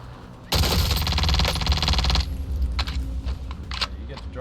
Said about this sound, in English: Oh, he's fucking shooting at me.